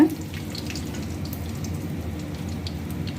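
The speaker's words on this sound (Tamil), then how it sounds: "ஒரு கைப்பிடி அளவுக்கு காஞ்ச மிளகாவும் கருவேப்பிலையும் போட்டு வதக்கிடலாங்க" Dried red chillies and curry leaves sautéing in hot oil in a pan, a steady soft sizzle and crackle that holds at an even, moderate level throughout with no talking.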